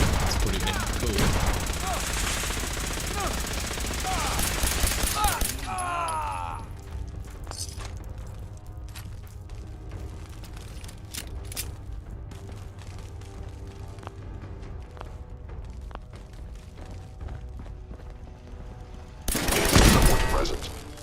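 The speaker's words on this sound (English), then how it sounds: "We got a Gatling laser." A Gatling laser fires in Fallout 4 with a rapid crackling burst, a quieter stretch of game ambience with faint clatter, then another short loud burst near the end.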